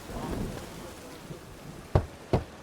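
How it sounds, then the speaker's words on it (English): Heavy rain hisses through a thunderstorm in The Witcher 3, then two sharp, loud cracks burst out near the end, a fraction of a second apart, above the steady downpour. "A storm, damn it."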